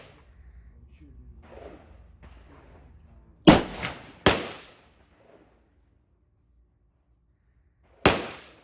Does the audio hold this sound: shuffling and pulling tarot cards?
no